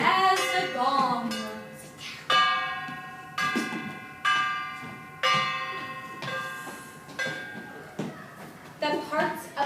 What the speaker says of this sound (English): The part of the grandmama will be heard as the gong.